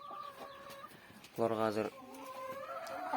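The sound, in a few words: laying hens clucking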